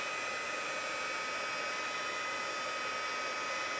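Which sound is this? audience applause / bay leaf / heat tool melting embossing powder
heat tool melting embossing powder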